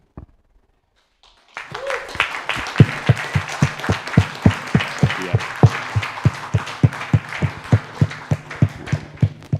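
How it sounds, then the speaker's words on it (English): Audience at a HiveFest 2023 conference session breaks into loud, sustained applause, dense overlapping claps starting abruptly after a brief silence and continuing steadily to the end, with some sharp individual claps standing out. "I guess there's a huge applause"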